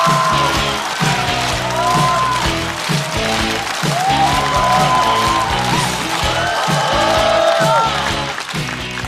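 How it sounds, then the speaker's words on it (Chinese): Studio audience at a Chinese stand-up comedy show claps steadily and loudly to welcome a young newcomer comedian onto the stage, with a few whoops and bright music-like tones mixed in throughout. "让我们掌声欢迎侯志远。"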